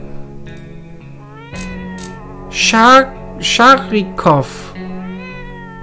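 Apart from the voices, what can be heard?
cat meowing in the video game 60 Seconds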